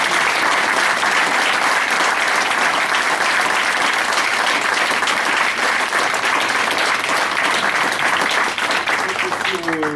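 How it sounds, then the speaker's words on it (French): Sustained audience applause at a judo belt ceremony, loud continuous clapping from a gathered crowd filling the whole stretch, with faint voices mixed beneath. "sous vos applaudissements"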